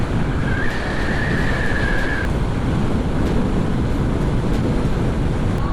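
Ocean surf breaking at a surfing spot in Dipaculao, Aurora, heard as a steady, loud wash of broadband noise with gusty wind buffeting the microphone. A faint tone drifts briefly in the background, and no one speaks.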